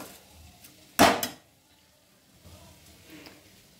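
A sharp metallic clatter of a pot or utensil rings out once, loud and close, during aloo dum cooking in a pan, followed by quiet kitchen sounds and faint activity.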